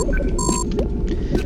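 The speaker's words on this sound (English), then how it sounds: "That sound means a switch that you can press." A short electronic chime from the Toby Accessibility Mod marking a pressable switch, with a couple of bright tonal beeps, heard over a steady low background rumble.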